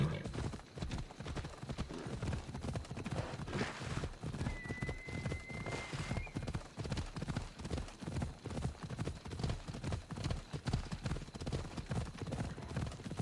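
Horse galloping in the video game Assassin's Creed Odyssey, rapid rhythmic hoofbeats pounding steadily and close throughout, with a whinny partway through and someone talking over it.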